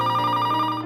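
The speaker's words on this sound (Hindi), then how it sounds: "फोन की घंटी" An old-fashioned telephone bell rings steadily indoors, a continuous loud metallic trill with a fast, even warble and nothing else heard.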